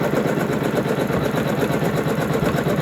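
A Janome Skyline S9 embroidery machine stitches a trapunto quilt design, giving a steady, loud, close mechanical whirr with a fast even needle rhythm that runs unbroken throughout.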